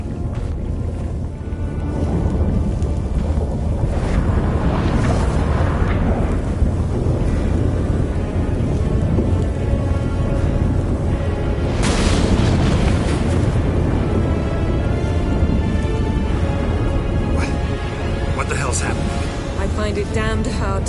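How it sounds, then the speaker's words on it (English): A storm rumbles and roars in The Witcher 3: Wild Hunt, with heavy sustained wind and thunderous swells that rise and fall throughout, and characters speak briefly over the din. "That a storm?"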